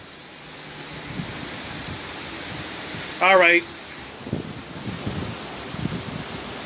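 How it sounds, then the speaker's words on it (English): Hurricane rain pours down in steady heavy noise as wind gusts during a landfall, with a short vocal burst and scattered thumps breaking through. "y'all see that rain coming down and the winds and all that?"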